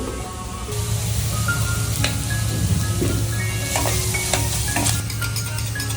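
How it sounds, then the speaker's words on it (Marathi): Masala gravy fries steadily in hot oil with a continuous close sizzle and occasional stirring scrapes, and no voices over it. "हा मसाला आपला असा ग्रेव्ही तेलामध्ये चांगली भाजून घेतलेला"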